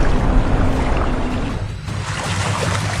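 Rainwater rushes through a street gutter and carries trash into a manhole, a loud, continuous wash of flowing water with a brief dip midway and no talking.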